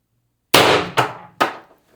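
A Mercury Rise IntruBuster G2 airgun fires an AR Tactical 8g .685-joule pellet: a sharp metallic clang of impact followed by two quick decaying ringing hits, close and loud with no talk.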